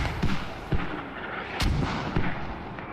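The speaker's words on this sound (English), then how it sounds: "As Fortis is dropping mortars, looks like onto these hills over here" Mortar rounds landing in the military video game Squad during a championship match, several distant booming impacts spaced about half a second apart, with one sharper crack midway, over a steady battlefield ambience.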